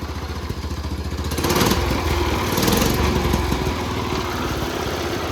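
An old mud mower engine runs steadily close by, its loud uneven putter layered with metallic rattling and clatter that swells briefly mid-stretch.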